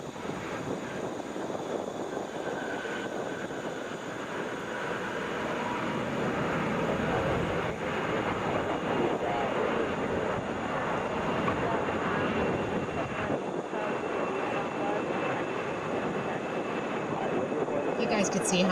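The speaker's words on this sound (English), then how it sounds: "This is Delta 2622 coming in from Knoxville" A Delta Boeing 717 arriving at Atlanta airport rumbles in with a steady, moderately distant engine roar that swells slightly toward the end.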